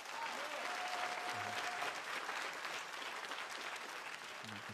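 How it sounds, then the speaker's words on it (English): Applause and crowd noise from the audience at a stand-up comedy show, a dense continuous clapping that stays fairly even throughout, with a faint voice briefly audible partway through. "Clap it up for that, that's right."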